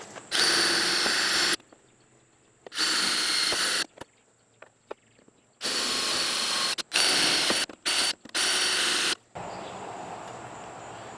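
A power drill boring holes into a truck tailgate in several loud, close bursts of steady whine, separated by quiet pauses with small clicks and handling noises.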